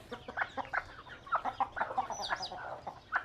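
Chickens in a village yard cluck in quick, uneven bursts, several birds calling close by with short repeated notes and no voices.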